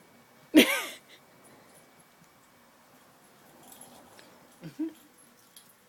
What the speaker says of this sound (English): Beyonce's part black lab, part Portuguese water dog.